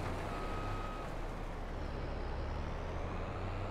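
A combine harvester in Landwirtschafts-Simulator 22 drones with a loud, steady engine rumble throughout, and a thin electronic beep tone sounds briefly near the start.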